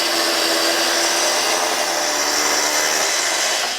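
Power saw cutting through clamped end-grain cutting board stock, a steady loud whine that holds continuously before tapering slightly at the end, with no talking.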